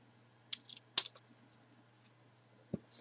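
A sealed box of NFL Hit Parade trading cards is popped open, giving a few sharp, close clicks and snaps followed by a brief soft crinkle, with quiet gaps and no talking.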